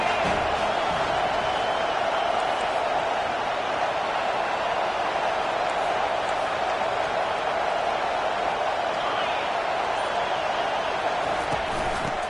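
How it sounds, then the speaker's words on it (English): A stadium crowd at a Wisconsin versus USC college football game sends up a sustained, loud roar that stays steady and dense for the whole stretch. "This crowd bringing an ear-splitting welcome to their visitors."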